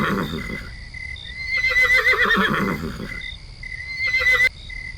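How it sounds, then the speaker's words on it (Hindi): Cartoon horse neighing in two loud whinnying bursts, each a wavering high cry over a soft background bed, set in an animated Hindi story about a woodcutter crow. "अरे घोड़े की आवाज आ रही है।"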